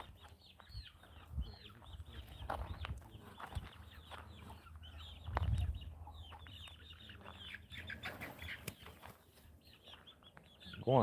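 A rooster and hens on a farm, near their coop, cluck and call in short, intermittent bursts at fairly low volume, scattered across the stretch with a few louder squawks.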